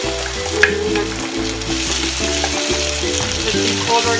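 Corned beef sautéing in a pan with pechay, giving a steady close sizzle and fry with scraping stirs throughout.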